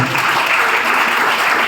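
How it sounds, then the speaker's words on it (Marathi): Loud, steady applause from an audience at an annual school prize distribution ceremony, dense clapping filling the whole stretch with no pause. "सगळ्यात जोरदार टाळ्या वाजवा."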